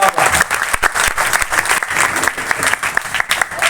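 A crowd at a Jain fair poetry gathering applauds, with dense, loud, continuous clapping from many hands across the whole stretch and a few sharper claps standing out.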